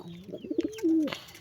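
Domestic white-bloodline pigeons coo close by in a loft, giving a few soft throaty coos that swell into one longer rolling call, with no one talking.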